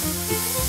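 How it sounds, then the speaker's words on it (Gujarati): Chopped tomatoes sautéing in a pan for a fasting-style banana curry, a steady close sizzle with faint stirring throughout the short moment. "ત્યારબાદ આપણે તેમાં સમારેલા ટમેટા એડ કરી દેશું અને તેને 30 સેકન્ડ માટે સાંતળી લેશું"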